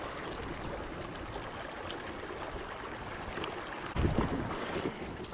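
Wind buffets a small boat during river fishing at Athirappilly, a steady roaring rush that swells into a louder gust near the end, with no other clear sounds.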